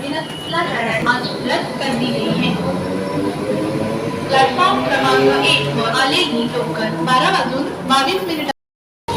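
AC local train passing through Sion station, a loud steady rumble of wheels and carriages with squealing metallic tones, close by, with talk over it throughout.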